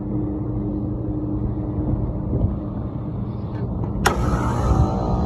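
A Carrier HVAC blower runs with a steady, loud rushing drone, and a sharp click or clunk near the end adds a brighter hiss over the airflow.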